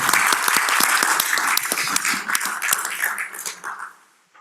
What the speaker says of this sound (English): we can clap while the manager comes down